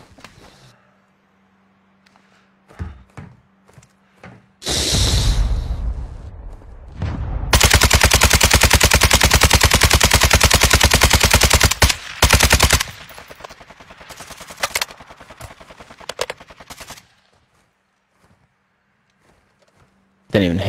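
Warzone 2 video game gunfire: a long sustained automatic burst with shorter bursts and single shots around it, loud and close, while players talk over it.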